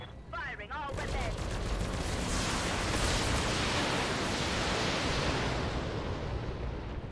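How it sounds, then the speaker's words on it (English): Mech weapons in the BattleTech video game fire all at once after a short voice line, and a dense, loud roar of overlapping shots and impacts rolls on without a break. "Firing all weapons"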